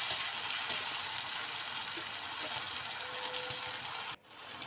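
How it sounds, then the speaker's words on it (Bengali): Onions sizzling in a pan with ginger and garlic for an okra masala, a steady broadband hiss close by that runs evenly and cuts off abruptly near the end. "তো পেঁয়াজটাকে আমি লাল লাল করে ভেজে নেব।"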